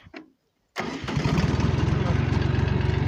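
A DTZ 5404 tractor with a rotary tiller working soil: after a brief faint sound and a short silence, the engine bursts in loud and close, settling into a steady, rhythmically pulsing diesel chug.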